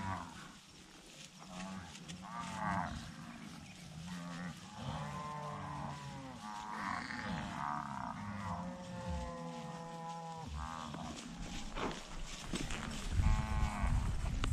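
Cows in a pasture low repeatedly, several drawn-out moos rising and falling over a rough outdoor background, at moderate distance, with occasional thumps close by.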